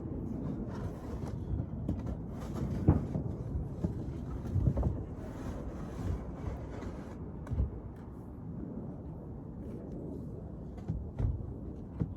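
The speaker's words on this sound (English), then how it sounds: "you can probably hear it. Why is it windy on the Saturday" Wind buffets the microphone in a steady low rumble with occasional stronger gusts, and no one speaks.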